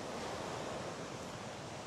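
Sea waves wash onto a damaged shore beside a residential area, a continuous broadband rush of surf close by, steady and unbroken with no voices.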